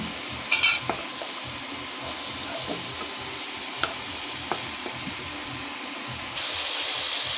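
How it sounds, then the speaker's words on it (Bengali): Chopped tomato stirred into a sizzling spice mixture in a pan for a rohu fish curry, a constant hiss punctuated by a few sharp scrapes and taps, louder near the end. "টমেটো কুচানো দিয়ে দেব"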